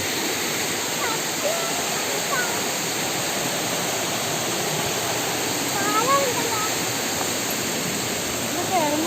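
Ezharakund waterfall pours in a steady, loud, unbroken roar of rushing water that fills the whole stretch, with no pauses or changes in intensity.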